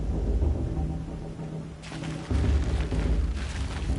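Booming, crackling bursts of a fireworks-like blessing ritual in Horizon Zero Dawn roll on continuously at a loud level, and a heavier burst lands about halfway through.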